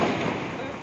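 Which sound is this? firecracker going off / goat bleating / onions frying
firecracker going off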